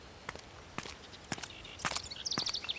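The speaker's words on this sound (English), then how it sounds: "Footsteps." Footsteps approach in an audio drama, a few isolated treads at first that grow closer and quicker, ending with sharp higher clicks, with no talking.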